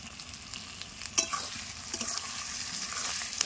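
Potatoes and onion fry in a pan with tomato, green chili and coriander, a continuous sizzle with scattered stirring scrapes and a few sharper clinks, heard close and fairly quiet.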